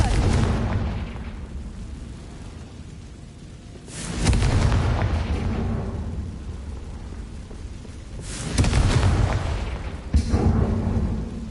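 Confringo blasting spell explosions in Hogwarts Legacy, two heavy rumbling blasts that decay slowly into a low roar, followed by a sharper third hit near the end, loud and with no talk.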